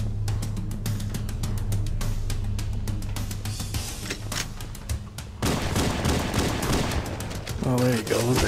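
Gunfire from the Halo: Combat Evolved shotgun during a PC gameplay battle on The Maw, with steady loud blasts over a droning background, followed by a denser burst of shots and effects with a voice faintly present.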